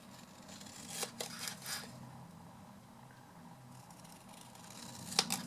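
Scissors trim the border of a handmade card, giving a few soft, close snips and paper rustles separated by quiet pauses, with one crisper cut near the end.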